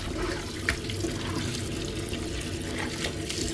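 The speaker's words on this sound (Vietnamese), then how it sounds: "bây giờ mình sẽ đổ nước vô mình rửa cho nó sạch bụi bẩn cát dơ trong cải chua nha mọi người" Water pours and splashes steadily over pickled mustard greens in a basin as they are washed, a continuous close gushing with small splashes and no talk.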